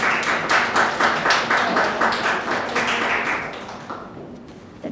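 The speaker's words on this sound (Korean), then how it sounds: "큰 박수 부탁드리겠습니다." Audience applauding at an award ceremony for a cultural and arts startup idea contest at a university, with steady, dense clapping that fills the room and gradually thins out toward the end.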